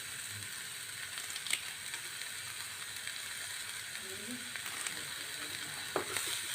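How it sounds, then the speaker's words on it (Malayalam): Finely chopped green chilies with salt sautéing in a pan, a steady soft sizzle with faint scraping stirs now and then, fairly quiet throughout. "പച്ചമുളക് ചെറുതായിട്ട് അരിഞ്ഞ് നല്ല ഉപ്പ് ഇട്ട് നമുക്ക് ഒന്ന് വഴറ്റിയിടാം"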